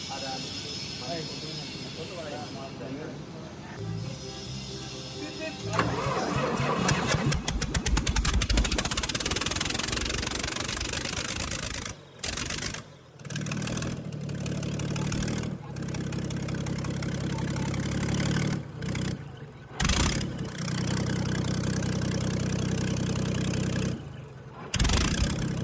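Rebuilt Komatsu 6D125 diesel engine from a D65/D85 bulldozer, run without exhaust manifold or turbo, cranks and catches into a loud, steady roar close by, with a few brief cuts and restarts; voices talk over it.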